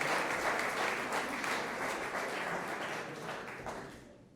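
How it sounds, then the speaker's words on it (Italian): Applause from an audience after a military cavalry brigade band's final piece, a dense steady wash of many hands clapping that holds strong and then gradually thins and fades out toward the end. "un grande applauso per l'ultimo pezzo"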